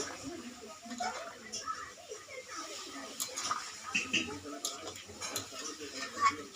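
Country chicken curry with garam masala is stirred in a pot, giving soft intermittent scrapes and light clinks of a utensil against metal, fairly faint, with a voice speaking over it.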